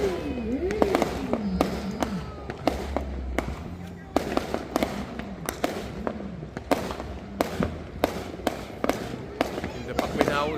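Rapid New Year's fireworks bangs and crackles burst again and again, sharp and fairly close, while people chatter and exclaim underneath.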